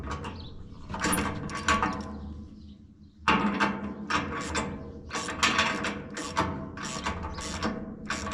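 A hand ratchet tightens the lug nuts on a trailer tire, giving bursts of rapid clicking strokes that repeat steadily and close up, pausing briefly midway, with no talking.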